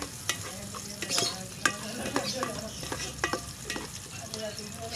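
Native chicken frying in a pan over a wood fire, a steady sizzle with scraping stir strokes and clinks throughout, close and moderately loud, no talking.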